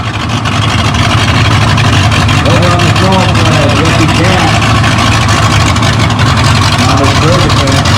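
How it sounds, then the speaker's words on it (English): Massey 65 tractor at a tractor pulling event, its engine running with the choke seemingly on, a loud continuous low engine drone under someone talking over the public address. "Near side we got Massey 65. Sound like the choke is on."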